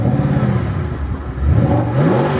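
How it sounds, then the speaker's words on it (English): A Mercedes SLS AMG fires up close by, its engine catching and then revving hard in a deep, rising surge before settling into a rough, throbbing idle. "So there we go, start the engine."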